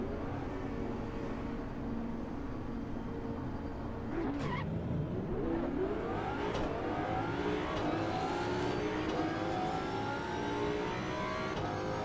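A race car in the Assetto Corsa Evo racing game launches from a standing start and accelerates, its engine droning steadily and sweeping upward through gears, loud and continuous throughout with other cars' engines mixed in.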